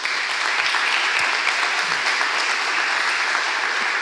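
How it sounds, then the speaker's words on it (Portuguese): A church congregation claps together after a prayer at a service, producing a continuous, even wash of applause that holds steady from start to finish with no talking over it. "Uma salva de palmas do Senhor"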